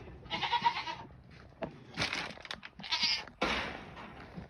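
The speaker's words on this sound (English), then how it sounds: "she's not a very nice goat to other goats" Goat bleating close up in a farm grazing area, several loud nasal bleats in uneven bursts with short pauses between them.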